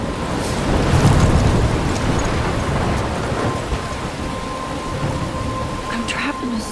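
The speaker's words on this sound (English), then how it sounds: "I'm trapped in a storm?" A thunderstorm in the video game Life is Strange: heavy rain pours in a continuous wash while thunder rolls and rumbles low beneath it, loudest early on.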